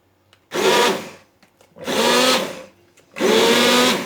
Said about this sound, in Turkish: blenderdan geçiriyorum